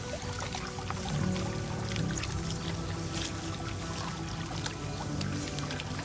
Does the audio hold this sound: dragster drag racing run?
no